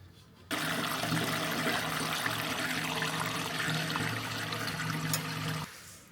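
Diesel fuel drains from a Land Rover Defender tank into a container, a steady, fairly loud gushing pour that starts abruptly, runs for about five seconds, then stops.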